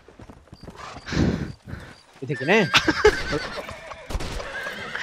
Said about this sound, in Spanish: ¡Hemos perdido un caballo!